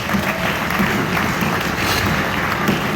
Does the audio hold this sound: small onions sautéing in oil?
no